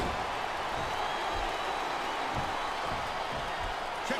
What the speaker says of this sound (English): He's got this crowd solidly behind him.